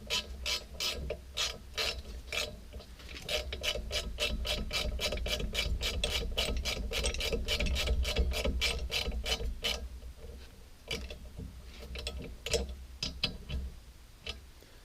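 A hand ratchet tightening engine bolts on a workbench during a 92 GT engine rebuild, giving a long, rapid run of close metallic clicks that slows and goes uneven near the end.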